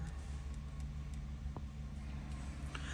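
A 2018 GMC Yukon XL 1500 SLT with about 76,000 miles idles steadily after starting, a low, even engine rumble heard from inside the cabin with a faint click partway through.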